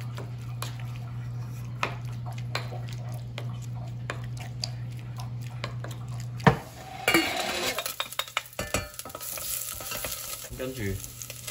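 Chicken being mixed by hand with sugar, soy sauce and pepper in a bowl, giving close, irregular clinks and scrapes over a low steady hum, with brief louder handling near the end and no speech.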